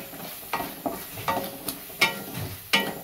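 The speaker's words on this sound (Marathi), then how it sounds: "व्यवस्थित परतून घ्यायचं" Spiced fish masala with homemade onion-garlic black masala being stirred and sautéed in a pan, a series of distinct scraping strokes at an uneven rhythm over a soft, continuous sizzle.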